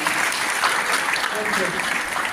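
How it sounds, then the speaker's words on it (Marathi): A crowd at a school admission festival claps together in a steady, dense round of applause, with voices mixed in underneath. "एकदा टाळ्या वाजवा सगळ्यांनी त्यांच्यासाठी"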